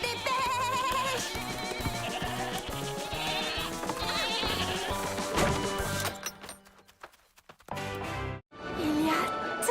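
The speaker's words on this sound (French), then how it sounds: "Hé, petite chèvre, venez." Cartoon goats bleating in wavering cries over lively background music, several calls close together, followed by a quieter stretch with scattered clatter and a thump.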